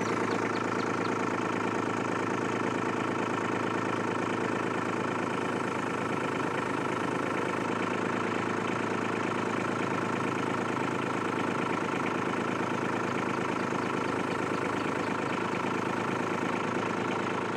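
Kubota B2601 compact tractor with a front end loader, its diesel engine running steadily near at a constant, even drone with faint knocking texture throughout.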